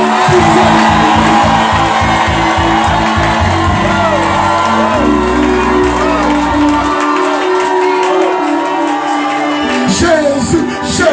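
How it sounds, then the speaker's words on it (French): A church congregation erupts in loud, sustained shouts and cries of joy, many voices whooping and cheering together in a dense crowd roar that swells and holds for several seconds, with music and rhythmic pulses underneath at the start. "on va pousser des cris de joie"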